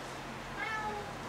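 A shop cat meows in a truck garage during Ford TTB axle work, a short rising call heard close and clear over a low steady background hum.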